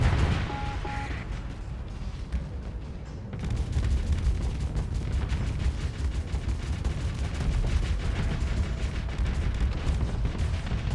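Ship guns in the space combat game Starsector fire in a dense, continuous barrage, loud rapid bursts and booms packed together over a low rumble with no gaps.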